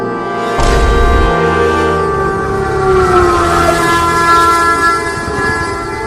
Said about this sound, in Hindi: आ गई ट्रेन, आ गई ट्रेन, आ गई